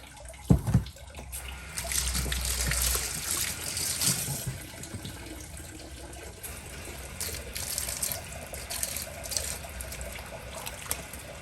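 Liquid fluorite tumbler slurry pours out of a rock tumbler barrel in a steady, sloshing trickle, opening with a few knocks and then running continuously at moderate volume.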